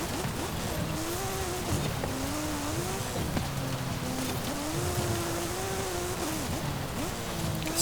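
A 1989 Porsche 911 Rothsport Racing 'Desert Flyer' off-road build with all-wheel drive drives over rough terrain, its engine droning and rising and falling in pitch steadily under continuous road noise.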